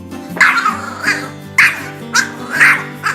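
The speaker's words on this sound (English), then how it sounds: "Despite its small size, it has a loud bark" A Pomeranian barks sharply several times in an uneven rhythm, loud and close, with short pauses between the yappy barks.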